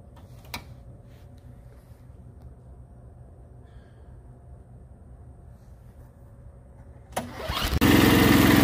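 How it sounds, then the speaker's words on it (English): A snowblower engine sits quiet over a low idle hum, then pulls and sputters before catching and roaring into a loud, steady run at close range. "We're going to turn the snowblower on."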